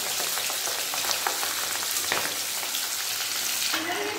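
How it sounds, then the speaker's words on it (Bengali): Pabda fish frying in mustard oil for a mustard curry produce a continuous, loud, close sizzle with scattered crackles and faint utensil stirring noises. "আবার একবার মাছগুলো ভেজে নেব ভালোভাবে।"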